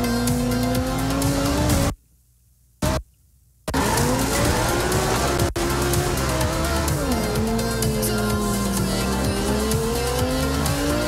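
A car drives in Forza Horizon 2 with a loud, steady engine drone and shifting pitch. Its tires squeal through the turns, and the sound briefly cuts to near silence before resuming.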